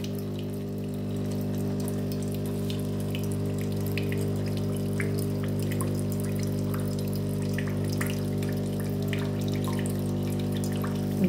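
A WMF coffee machine running its cleaning cycle, with water flowing steadily through it over a constant mechanical hum. The sound is close and even throughout, with no talking.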